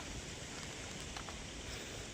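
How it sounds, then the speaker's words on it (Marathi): Soft, continuous rainfall at a tidal creek hisses quietly in the background, a faint steady patter with no talking. "मस्त पाऊस पडू पडते काहीच मस्त आणि जोर पण आलेला आहे"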